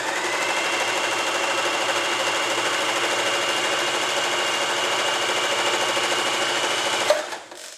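An Elna 120 sewing machine stitches a zigzag pattern in a steady, fast, even mechanical whir that runs continuously and close, then stops abruptly near the end.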